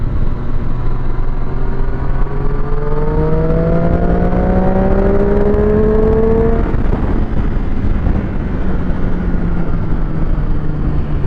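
A car engine revs and pulls through the gears on a drive, rising whine sweeping up and settling back, loud and close with steady road roar underneath and no talking.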